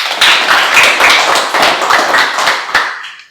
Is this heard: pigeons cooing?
no